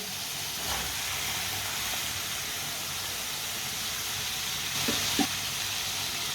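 Finely chopped turnips sizzling in a hot pan, a steady close frying hiss throughout with a couple of brief clinks of a spoon near the end.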